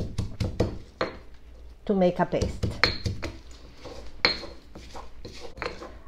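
Pestle pounding ingredients with salt and a little oil in a mortar for Galician-style monkfish, giving repeated close knocking and clattering strikes while a person talks over them.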